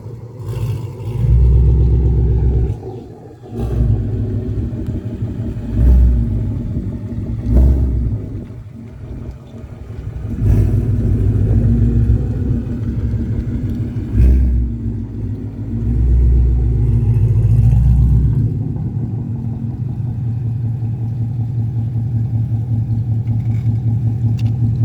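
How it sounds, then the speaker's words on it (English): A modded 2017 Ford Mustang GT with BBK long-tube headers and an aftermarket exhaust rumbles loudly, its deep engine note swelling in repeated revs and easing back to a steady idle. "first thing I noticed when I got on this car was the exhaust"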